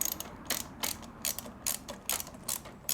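A hand ratchet clicks in quick repeated bursts of crisp pawl ticks as it snugs a radiator guard bolt on a Yamaha R6 motorcycle, close and clear, with short pauses between strokes.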